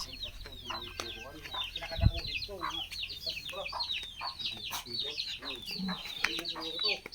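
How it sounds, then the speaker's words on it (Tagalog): Chickens cluck and chirp continuously on a farm where pigs are also kept, a dense close chorus of short calls with a faint dull thump partway through. "Chickens."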